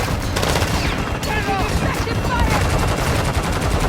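Rapid video game gunfire aimed at a boss during the Shadow Siege event in Shadow Company, dense continuous bursts, loud and close, with voices talking over the shooting.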